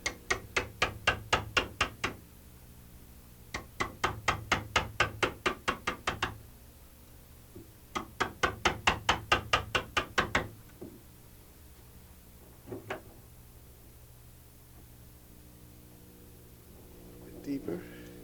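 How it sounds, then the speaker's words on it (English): A sharp 1-inch chisel is hammered into wood to excavate a lock mortise. Three long bursts of rapid, evenly spaced sharp knocks are followed by a few isolated strikes, close and crisp, with someone talking in between. "I'll use a nice sharp 1-inch chisel to excavate the wood."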